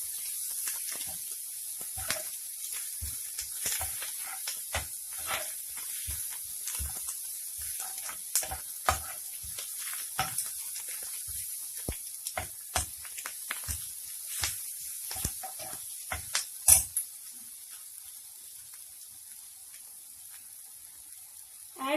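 Chopped ginger, curry leaves and coriander leaves sauté in hot oil with a steady high hiss and scattered crackling pops, close and alone with no talk.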